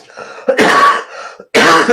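Two harsh, throaty coughs sound close to the microphone, separated by a short pause with faint breathy noise.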